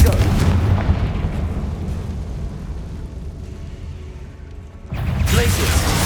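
In the Hogwarts Legacy video game, the Confringo fire spell bursts with a deep, booming blast that rumbles and fades over several seconds before a second explosive hit strikes near the end.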